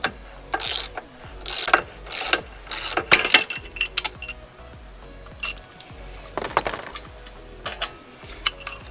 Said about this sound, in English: Again, using our star bit, we will now remove the upper bolt.